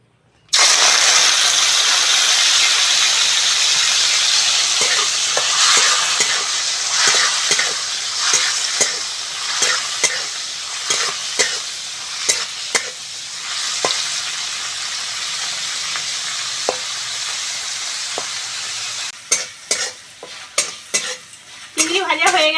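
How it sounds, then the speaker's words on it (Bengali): Prawns fry in white oil in a wok for prawn fried rice, giving a loud, continuous sizzle throughout, broken by frequent spatula scrapes and clinks that cluster near the end. "ফ্রাইড রাইস করার জন্য প্রথমে কড়ার মধ্যে সাদা তেল দিয়ে দেবো। চিংড়িটা ভেজে নেব।"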